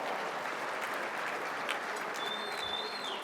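Steady applause from a gala audience at a Greater Vancouver Board of Trade awards event, dense and sustained throughout with faint cheers rising near the end.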